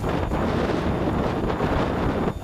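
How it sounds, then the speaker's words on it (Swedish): Strong wind buffets the microphone in a steady, loud roar at a snowy winter car meet in Köping, Sweden, with gusts rising and falling throughout and no voices. "tuffar vindar nu."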